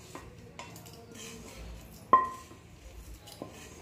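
Roasted spices for a mango pickle tip from a pan into a metal mortar, with soft rattling scrapes and one sharp ringing metallic clang midway, near and fairly quiet.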